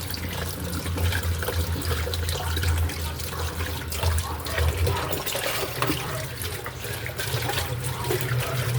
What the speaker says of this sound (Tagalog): Pakuluin muna natin siya.